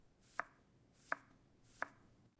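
A knife chops an onion on a board with three crisp, evenly spaced strikes, close and clear against a quiet background.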